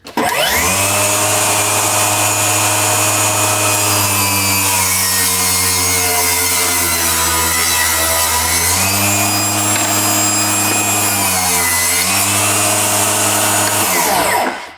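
Portable table saw running loud and close while cutting wood, a steady high whine that dips in pitch as the blade loads during the cut, then spins down at the end.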